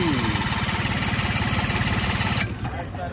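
A small outboard-style boat engine in Manila, Philippines runs in a fast chugging rhythm, loud and close, then drops abruptly in level near the end.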